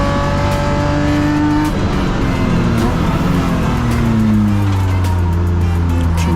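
BMW M Performance Parts race cars in a Class D circuit race, engines loud and close, revving and pitching through gear changes as several cars pass, with a commentator's voice faintly in the background.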